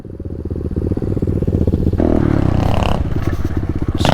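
Two small pit bike engines run together outdoors, a steady loud pulsing idle that rises into a harder, rougher rev partway through, with clattering mechanical noise over the throttle blips.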